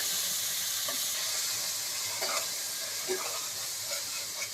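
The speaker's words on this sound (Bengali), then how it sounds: "এখন মনে হয় এটা তেলের ভিতরে ভাজবা তাই না মা" Food frying in oil in a home kitchen pan, a quiet continuous hiss and sizzle with a few faint stirring clinks, no speech.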